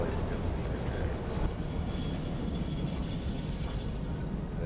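A train rumbles past in the factory-building game Satisfactory, giving a steady mechanical roar with a brief brighter clatter partway through, continuous and fairly loud throughout.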